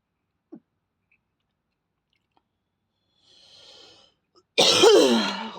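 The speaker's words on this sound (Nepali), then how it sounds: "खोकी लागेको छ त्यस्तै।" A person who has had a cough for several days gives one loud, harsh cough up close. It comes after a long near-silence broken only by a faint rustle and a small click.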